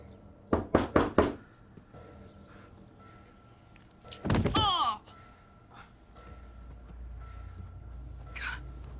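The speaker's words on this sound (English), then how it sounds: "Give it a knock already, will you?" Four quick knocks rap on a door, followed by a sliding or creaking scrape and quieter background movement, with faint voices in the scene.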